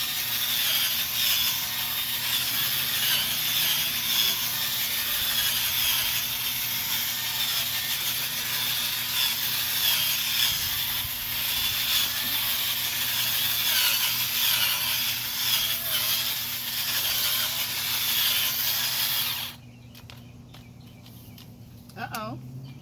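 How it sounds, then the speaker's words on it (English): A battery-powered auger drills through very dry potting soil as it is mixed for uppotting melon plants into an 18-inch container, a loud steady whirring grind that runs nearly twenty seconds, then cuts out abruptly, leaving quiet. "I'm going to use my auger"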